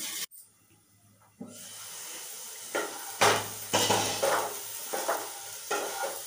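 Potatoes frying in a pan while cooking a dry aloo tamatar sabji, a soft steady sizzle with brief silence at the start, then louder bursts of stirring and scraping against the pan, close and without talk.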